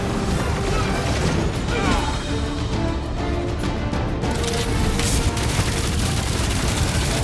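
Constant heavy gunfire and explosions fill a chaotic battle in Marvel's Guardians of the Galaxy. The dense, loud barrage runs without pause, with shouted voices mixed into the din.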